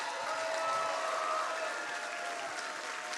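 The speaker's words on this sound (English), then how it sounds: "give yourselves a round of applause" A comedy club audience applauding, dense steady clapping at moderate distance that holds evenly throughout without fading.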